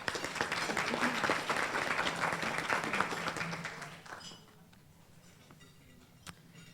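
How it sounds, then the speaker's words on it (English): An audience at a university debate on free higher education applauds a speaker, with dense clapping for about four seconds that quickly dies away to a quiet room and one faint click. "Would you please give her a round of applause?"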